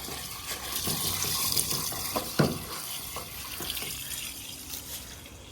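Water from a hose runs through a long PVC drain pipe laid through a forest, a faint, steady trickling and gurgling flow with a few small splashy bumps and no talking.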